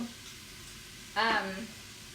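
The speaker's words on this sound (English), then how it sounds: "I'm just flipping my last two short ribs." Short ribs sizzle in a hot pan, the frying hiss flaring briefly as the meat is flipped, then settling to a quieter steady crackle.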